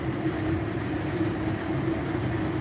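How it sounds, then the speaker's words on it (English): An MBTA Red Line subway train runs steadily, its loud, continuous rumble holding a sustained hum with faint rail clatter throughout and no voices. "this is the same train that gave me the bumpy ride"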